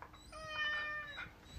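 A single drawn-out cat meow, clear and fairly close, rising and then trailing off.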